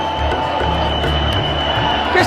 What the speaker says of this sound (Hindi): मैं आपको मंदिर का एंट्री गेट दिखा देता हूँ कि वहाँ किस तरह की भयंकर भीड़ है